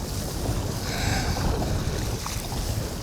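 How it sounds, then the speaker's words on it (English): A small fishing boat pushes slowly into strong wind and waves, with a loud, steady rumble of wind buffeting and water slapping the hull that continues without a break and no talking. "Going right into the wind, right into those waves."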